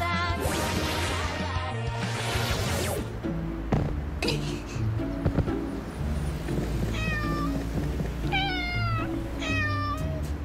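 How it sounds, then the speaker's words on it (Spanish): A cartoon kitten from a children's animated series gives a few short, high mews in the second half, heard over busy music after an opening swoosh and clatter. "¡Gatito!"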